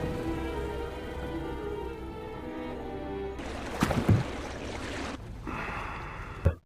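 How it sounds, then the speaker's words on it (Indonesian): Heavy nighttime rain pours in a dense, steady hiss with occasional louder splashes and rustles, broadband and close, no voices. "Di malam hari beserta hujan deras"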